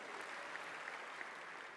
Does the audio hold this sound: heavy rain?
no